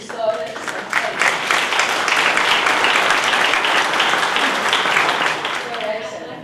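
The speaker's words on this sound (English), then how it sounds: "you can applaud for them" Audience applause at the completion ceremony for the restoration of the Holy Edicule of the Holy Sepulchre swells into a dense, sustained patter of clapping, with voices audible at the start and end.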